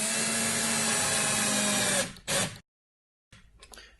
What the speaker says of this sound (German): Ich drehe die Schrauben nur so weit rein, dass sie gerade ein bisschen versenkt sind.